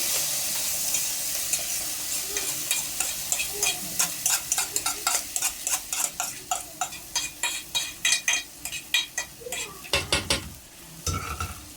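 Freekeh sizzles in hot ghee in a pot while a spoon stirs it in quick, repeated scraping strokes that clink against the metal, growing more rhythmic and distinct midway through, close and moderately loud.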